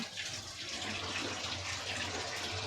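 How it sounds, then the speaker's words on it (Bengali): Tap water runs steadily into a kitchen sink while dishes and containers are washed, a continuous close splashing rush with no talking. "এগুলোকে এখন আমি সব ধোবো এই যে ডিপার সবগুলো ধুয়ে আমি তারপরে ফিরে আসছি"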